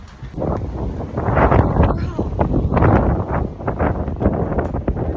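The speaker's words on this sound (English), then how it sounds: "It's like bad windy." Strong wind buffets the microphone during an outdoor run, a gusty rumbling roar that rises and falls, mixed with breathy voice sounds.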